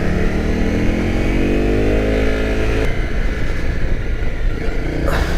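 Honda CRF 250 Rally motorcycle engine runs steadily and close, with a rising rev and gear change as it rolls over a speed hump, the loud drone continuing throughout.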